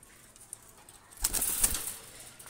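Female tournament pigeon released by hand, a soft brief flurry of wing flaps and faint cooing close by, with quiet surroundings before and after.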